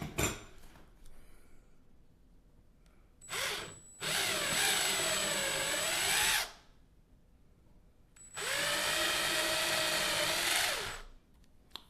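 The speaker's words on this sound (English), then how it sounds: "you adjust the drill so it has the same length" A power drill bores a hole into the body of a 1964 reissue Gibson ES 335 guitar for a Bigsby B7 install: a brief whir, then two sustained, loud whining drill runs separated by a pause.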